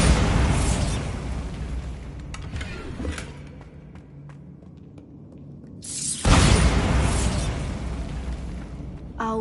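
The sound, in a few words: Bombarda blasting spell explosion in a Harry Potter video game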